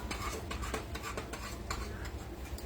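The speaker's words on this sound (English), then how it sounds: "Now we got to keep stirring this, and we got to let it boil till the sugar's melted." A boiling sugar mixture for Grinch popcorn being stirred steadily in a pot, a soft continuous bubbling hiss with light repeated scrapes and ticks of the utensil, close and quiet with no voices.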